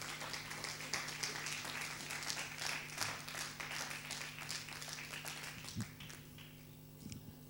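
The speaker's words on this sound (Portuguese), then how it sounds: "Vamos ficar de pé e dar uma salva de palmas a Jesus" A church congregation claps for Jesus during a service, a faint, even patter of many hands spread over several seconds, fading slightly toward the end.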